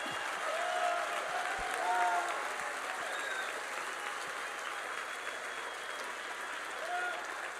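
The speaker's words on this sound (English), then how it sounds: "these guys deserve a round of applause" Crowd applause at a Reawaken America Tour rally in Batavia, New York, a steady wash of clapping from a large audience with scattered whistles and cheers, holding at an even level throughout.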